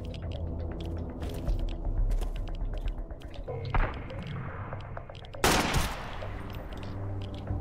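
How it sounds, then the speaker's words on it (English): Sniper rifle and other gunfire in the survival game Sunkenland, a busy stretch of rapid shots under game noise with two louder sharp cracks standing out, the last one near the end. "They have a bunch of sniper rifle for sure."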